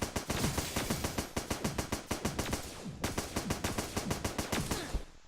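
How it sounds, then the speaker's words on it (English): Rapid automatic gunfire from the Starbound video game, a steady stream of sharp shots in two long bursts with a tiny break between, loud and close. "That was a good shot."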